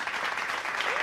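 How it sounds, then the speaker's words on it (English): Applause from a studio audience, a dense burst of many hands clapping continuously for about a second, close and fairly loud with no pauses. "You really slow with them claps."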